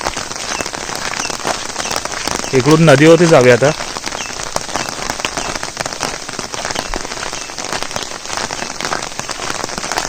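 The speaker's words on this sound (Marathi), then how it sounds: "आता तो पाऊस स्टार्ट झाला आहे ना, तो असाच चालू राहायला पाहिजे" Steady monsoon rain pours in a Konkan village, a dense, loud hiss on surfaces throughout, with someone briefly speaking over it.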